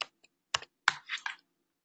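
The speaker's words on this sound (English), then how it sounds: "if I type in I4C" Computer keyboard typing in a quiet room: a handful of separate key taps, then a short quick burst of clicks, close and fairly soft, with no voice.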